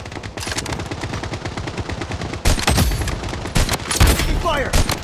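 Rapid automatic gunfire crackles through a BloodStrike match in a dense, continuous burst, then turns into louder, heavier shots with sharp impacts and game sounds layered on top.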